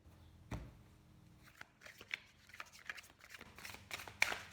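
Tarot cards being cut and shuffled by hand, a string of soft papery riffles and flicks with one sharp tap near the start and a brighter snap near the end, close and fairly quiet with no voices.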